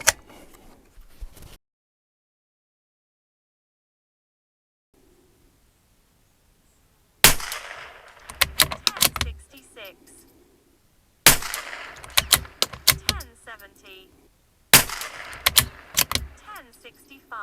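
Tikka T1X rimfire rifle firing RWS Club .22 ammunition at a range, three sharp loud shots spaced a few seconds apart, each followed by brief clatter, after a stretch of near silence.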